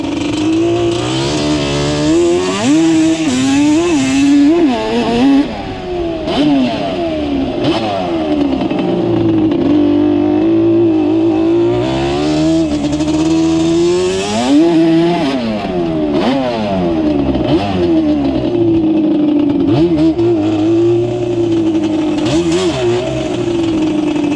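A Yamaha Banshee two-stroke engine revs repeatedly, rising and falling in loud, raspy bursts up close, with a slight bog dulling some of the climbs.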